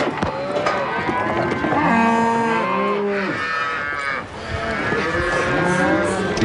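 Bulls and cows penned in farm yards moo and bellow continuously, several animals overlapping in long, loud, drawn-out calls with a busy background of livestock noise.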